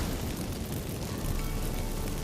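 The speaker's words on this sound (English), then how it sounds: "Get ready for some magic fireworks." Magic fireworks from activated incense in The Witcher 3: Wild Hunt fill the space with a dense, steady crackling rush that holds at constant loudness throughout.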